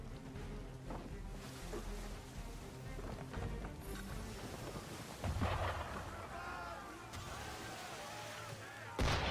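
Booming cannon fire strikes near a ship in Assassin's Creed III, with several heavy blasts spaced apart over a low rumble and sea ambience, a hard boom landing at the very end.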